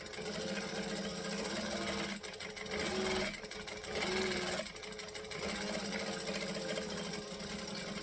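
Sewing machine stitching and back stitching a bag with a zipper at a 2.5 stitch length, a fast steady mechanical whirring with brief pauses and direction changes, loud and close.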